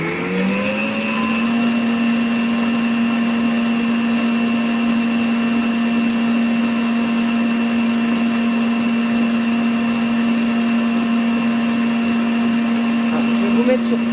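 A kitchen machine whips cream into butter, running as a steady, loud motor hum with a constant high whine that holds unchanged and unbroken for the whole stretch after a brief rise at the start.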